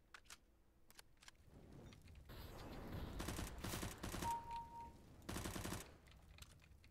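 Bursts of gunfire in the co-op shooter game Operation Hydra: several short volleys of rapid shots spread across the clip, fairly faint, with no voices.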